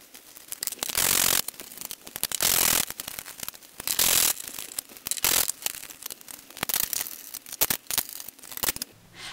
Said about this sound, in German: Dafür schraubt man die 4 Schrauben mit einem 8er Vielzahn raus. Und die beiden Muttern mit einer 13er Nuss.